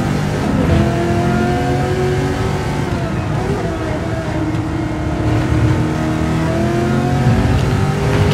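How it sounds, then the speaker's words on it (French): A Chevrolet Camaro muscle car in Gran Turismo 7 racing at Spa roars steadily at high revs, its engine note rising and falling continuously throughout with no pause. "Un bon vieux son de muscle car, ça fait toujours plaisir."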